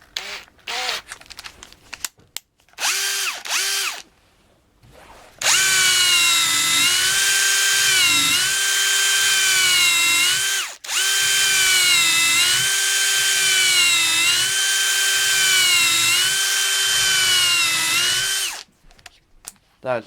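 A cordless drill, a Metabo PowerMaxx BS 12 BL Q 12V, whines loudly at close range in two long bursts on speed 2, its pitch wavering as a 6mm DeWalt countersink bit cuts, with brief clicks and handling noise before and between.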